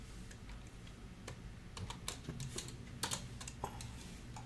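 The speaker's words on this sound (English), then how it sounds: "You can see I'm a real good typer." Typing on a computer keyboard: irregular, close-up bursts of light key clicks, faint and quick, clustering in short flurries over a soft room hiss.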